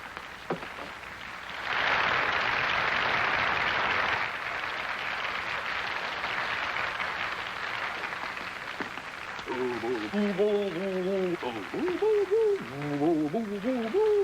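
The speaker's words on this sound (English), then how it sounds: "Listen to that applause." A boxing arena crowd applauds the challenger as he enters, a broad wash of clapping and crowd noise swelling loud for a couple of seconds, then settling into a steady roar with a voice speaking over it later.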